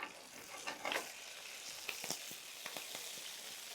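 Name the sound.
curry leaves frying in sesame oil, for chicken fry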